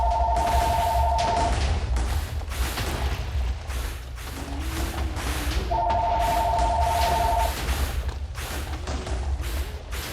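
A mobile phone rings during a Minecraft session, two bursts of a steady electronic ringtone a few seconds apart over a constant rumble of game sounds and a low gliding tone between them.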